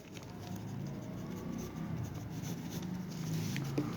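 Steady scratching and tapping of writing on a board during a Hindi chemistry lesson on baking soda and washing soda, continuous and fairly quiet with no talking.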